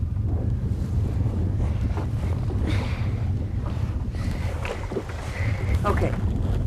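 A canoe moves forward across open water under paddle strokes, with steady water wash and wind rumble on the mic and soft strokes and splashes throughout.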